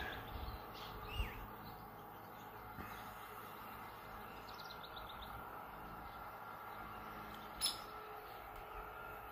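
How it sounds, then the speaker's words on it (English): Birds chirp and call in a backyard at night-camping time, brief faint tweets scattered over a steady low rumble of a distant combine harvester across the way. "Can you hear the birds?"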